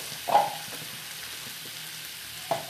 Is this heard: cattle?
no